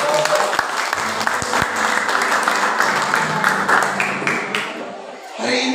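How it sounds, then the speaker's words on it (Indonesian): A church congregation applauding warmly, loud dense clapping and crowd noise that gradually fades toward the end before swelling slightly again. "saya mau dengar tepuk tangan yang meriah dari saudara"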